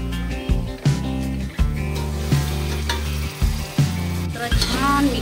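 Chopped tomatoes sizzle in browned fried onions in a pan for egg biryani, with a steady frying hiss and repeated stirring scrapes and clunks recurring every second or so, close and fairly loud, no talking.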